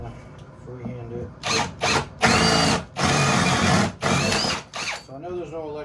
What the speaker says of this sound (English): I'm just gonna run this. So I'm using a jigsaw